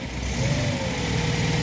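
A classic car engine is revved up from idle, its low steady rumble lifting slightly in pitch as the throttle opens, close and continuous with no talking.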